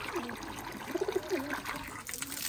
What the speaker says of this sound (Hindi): कबूतरों का पानी फुल कर देते हैं।